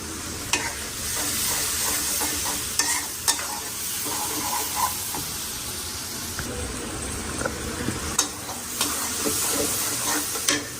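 Turmeric and chili powder spices frying in a hot pan, giving a steady sizzle punctuated by sharp taps and scrapes of a spatula stirring against the metal.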